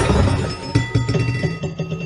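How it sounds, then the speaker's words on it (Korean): Dishes clatter and clink loudly as they tumble and fall, a jumbled burst of ringing crockery knocks lasting a couple of seconds. "우당탕탕탕 그릇이 굴러 떨어지고 말았네요."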